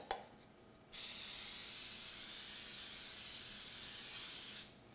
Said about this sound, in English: We're going to spray it with nonstick spray.